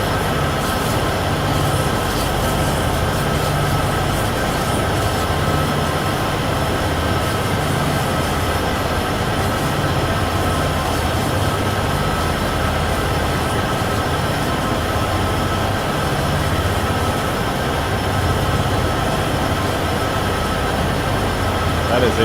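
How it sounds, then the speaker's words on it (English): Trains pass each other on the Cheyenne–Laramie line in the train simulator game Train Sim World 6, giving a loud, steady rumble of rolling wagons and wheels that lasts the whole stretch without letting up. "I'm going to get the trains crossing each other."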